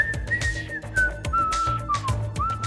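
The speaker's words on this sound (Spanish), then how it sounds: "silbar una tonadilla" A person whistles a short, lilting tune as a signal on arriving at a house, the melody clear and fairly close, gliding between notes over a faint background.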